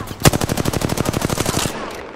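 A rapid burst of automatic gunfire in Apex Legends, about twenty evenly spaced shots fired in a steady stream after one sharp opening crack, then a brief fading tail.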